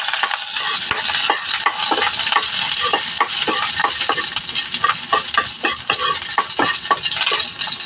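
Ginger and garlic sauté in hot oil in a wok, giving a loud, continuous sizzle broken by frequent clicking strokes of a spatula stirring against the pan, with no talking.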